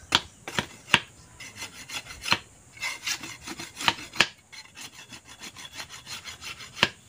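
A dull bolo knife cuts through bamboo for a trap in the outdoors, giving sharp, irregular chopping and rasping strokes, some louder cracks among quicker scraping cuts, close by and with no talk.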